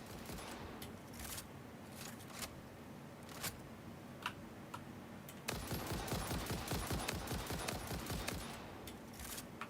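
Rapid automatic gunfire in the video game Satisfactory, with scattered single shots for the first few seconds and then a loud, sustained burst of rapid fire taking over.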